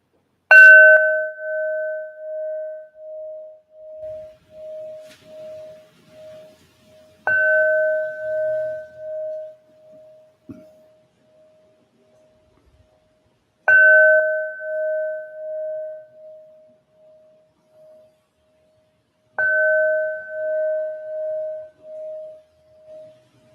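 Bells struck during a live sound healing session, four separate clear strikes spaced several seconds apart, each ringing out and slowly decaying into silence.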